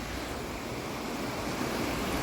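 Sea waves on the rocky Costa Brava coast of Catalonia wash in as a steady, broadband surf roar, fairly close and continuous, with some wind noise and no voices.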